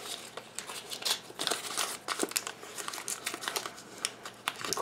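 A stick of butter's wrapper being peeled open near the microphone, with bursts of crinkling and rustling paper at an uneven rhythm, fairly faint and with no voices.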